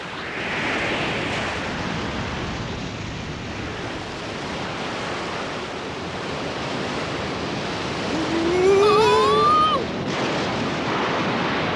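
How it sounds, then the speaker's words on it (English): Cartoon storm at sea, with a steady roar of wind and surf around a small boat and a brief whistling gust near the end. "There's a storm coming!"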